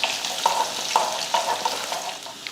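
Cumin and a few garlic cloves crackle in hot oil in a kadai for a tempering, a close sizzle broken by repeated quick spatula scrapes and taps.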